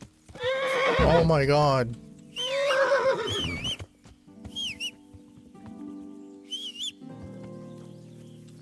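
Horse in the medieval game Kingdom Come: Deliverance: loud, close whinnies and neighs with snorting, followed by softer bird-like chirps and a faint hum, while a person exclaims over the first call.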